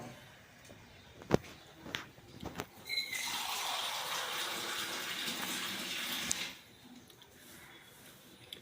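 After a few knocks and clatters, water and leafy-greens (keerai) juice pour into a cooking pot in a home kitchen for about three seconds, a rushing splash that stops abruptly, followed by quiet.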